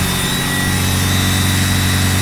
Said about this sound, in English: there's a whistle coming from the intake manifold area